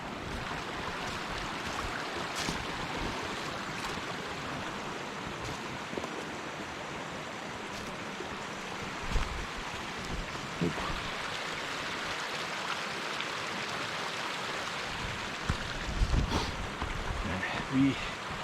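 Steady broadband rush of a creek flowing beside a backcountry campsite area on a forest trail, continuous and fairly close, with faint footsteps or movement now and then.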